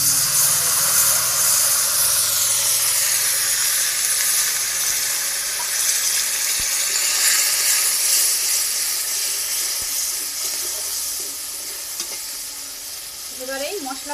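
Spice paste hits hot oil tempered with white cumin and sizzles loudly and continuously in a close pan for a vegetarian potato, pointed gourd and paneer dish, the hiss easing slightly toward the end with faint stirring scrapes.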